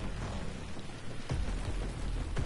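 Video game rain patters steadily throughout, with a couple of soft low rumbles mixed in; no one speaks.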